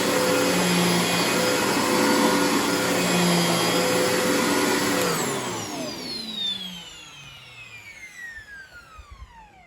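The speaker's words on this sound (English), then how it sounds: "Get back to vacuuming." A Riccar R30D upright vacuum cleaner runs loud and close with a steady high whine, then switches off and winds down, its pitch falling over several seconds until it fades out.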